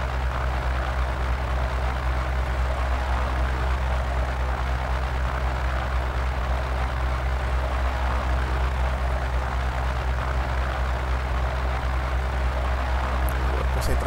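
Small propeller airplane engine in Microsoft Flight Simulator 2004, a steady, unchanging drone heard alone throughout at moderate loudness.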